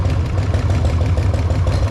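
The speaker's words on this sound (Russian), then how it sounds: "Возможно, дело реально в хуёвом масле, и это стучит гидрик." A Harley-Davidson Sportster engine idles loud and close with a steady rapid pulsing, a fast mechanical ticking knock from a hydraulic lifter in the front cylinder running through it, and no voices over it.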